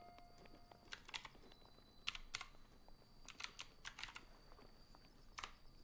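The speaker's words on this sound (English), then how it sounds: "Gamer keyboard typing." Quiet clicking of a gaming computer keyboard, irregular bursts of keystrokes with short pauses, fairly close and soft with no talking.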